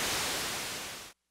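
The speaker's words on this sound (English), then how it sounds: "a white noise" Loud, steady hiss of white noise from the noise source in a synthesizer's mixer section, holding broadband and even for about a second before cutting off abruptly to silence.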